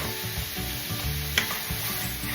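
Pork seasoned with Old Bay browns in a pan with a loud, close, continuous sizzle and one brief clink partway through, with no voices.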